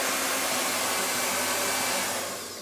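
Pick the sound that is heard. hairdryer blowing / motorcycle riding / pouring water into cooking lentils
hairdryer blowing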